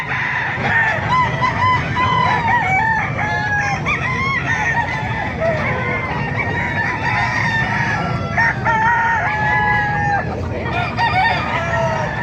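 Hens clucking and roosters crowing at a live chicken market in Calumpit, Bulacan, a dense, loud chorus of overlapping calls running steadily throughout with no speech.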